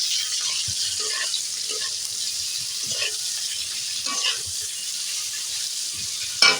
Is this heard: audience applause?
no